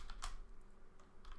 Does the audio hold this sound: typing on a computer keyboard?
yes